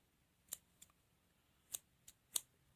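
Scissors snipping a long tail of crochet yarn, several short crisp cuts spaced apart in a quiet room, close and alone.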